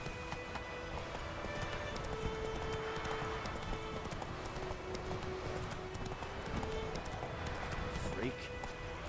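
Roach, Geralt's horse in The Witcher 3, gallops with a quick, steady clip-clop of hooves under ambient game sound and voices.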